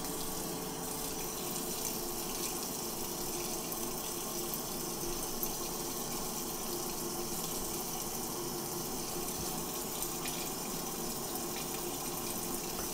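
Kitchen tap water running steadily over a meat thermometer at the sink, a continuous close rushing and splashing stream that holds even throughout, with no talking.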